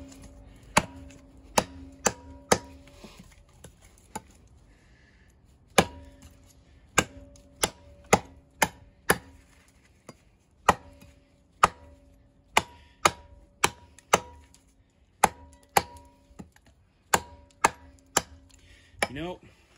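An Ontario RD-9 knife, 9.5 inches with a full flat grind, chops into a wood branch, giving some twenty sharp, close knocks in quick bursts separated by short pauses, with no talking.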